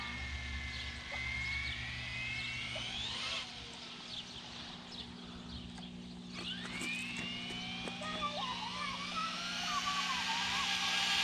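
A Traxxas Slash 4X4 RC car running on a 3S battery whines near a road, its high electric motor pitch rising and falling through several bursts of acceleration, fairly faint against outdoor background.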